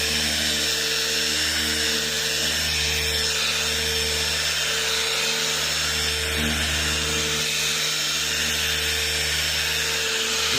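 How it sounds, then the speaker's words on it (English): A polishing machine spins on a Toyota RAV4 headlight, giving a continuous close whine with a steady hum and slight dips as the angle changes, with no speech. "we're getting on an angle with the machine, and we still want it to spin so we can work those defects out"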